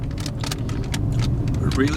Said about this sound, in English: The car is finally moving again.